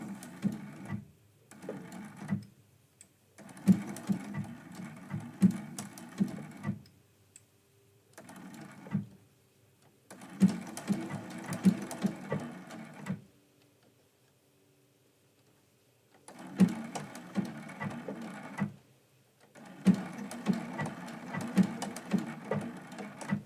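A domestic sewing machine works a blanket stitch along the edge of a Christmas quilt-as-you-go block. It runs in several rhythmic, pulsing bursts of a few seconds each, separated by short pauses, and sounds close and moderately quiet.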